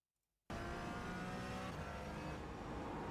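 Porsche 718 Cayman in the iRacing video game at Road America, silence then the engine cutting in abruptly at full volume, a steady loud in-car drone as it runs through a gear change.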